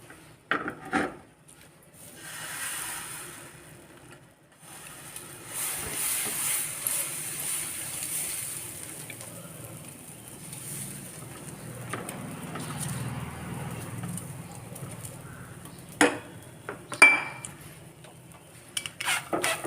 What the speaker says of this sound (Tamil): இன்னொரு தோசை ஊற்றுவோம்.